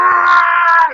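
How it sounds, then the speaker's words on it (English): A sustained, loud scream with shouting rings out in a corridor of the game Salvage Skies, one harsh voice held steady for about a second before trailing off. "This scream and shout."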